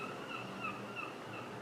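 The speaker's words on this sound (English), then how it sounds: "I hear some seagulls right now" Faint seagull cries drift over a steady breezy outdoor hum, a few thin calls repeating in the distance.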